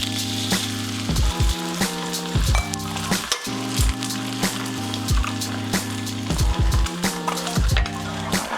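Eggs frying in butter in a pan for garlic fried rice give a steady sizzle, punctuated by repeated clinks and taps of utensils against the cookware, with no talk.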